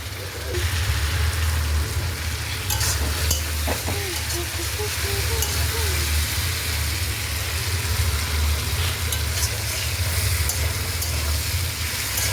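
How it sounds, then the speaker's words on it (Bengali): Mutton being stir-fried with spices in a pan, a dense continuous sizzle over a low steady hum, with occasional scraping from stirring. "দেখতে পাচ্ছ আমি মাংসটাকে কষাচ্ছি।"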